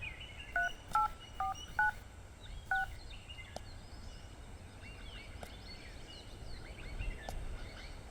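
A phone number is keyed in with a quick run of distinct dialing tones, five or so beeps near the start, followed by quieter room background with faint chirps.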